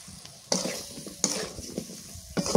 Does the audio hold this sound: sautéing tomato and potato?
yes